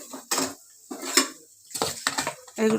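Mashed cabbage, potato and tomato tipped into a pan, with a spatula clanking and scraping against the metal in several bursts, plus light clinks and a faint sizzle near the end.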